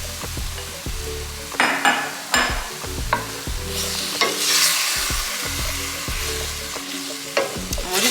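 Spring roll sauce goes into a pan of softened vegetables, and a loud steady sizzle follows, broken by repeated scrapes and knocks of a utensil stirring against the pan, close up.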